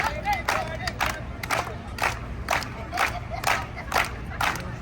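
Street performance crowd in Times Square, New York, clapping in steady rhythmic bursts of about one per second, with scattered shouts and cheers mixed in over a busy outdoor background.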